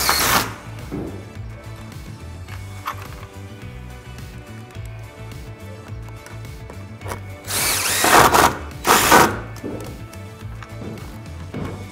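A power drill drives 2-inch screws through a sliding door's head track into the header, with repeated whirring bursts, motor pitch changes and short clattering impacts, close and loud.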